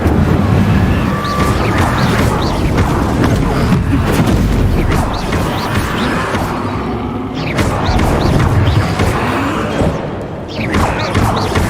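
An Incendio fire spell is cast in a Harry Potter video game, producing loud, continuous roaring whooshes and booming bursts that swell and fade.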